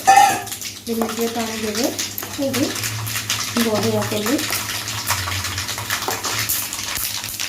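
Water from a glass is poured into horse gram dal, a splashy, running pour heard close by while a person talks over it.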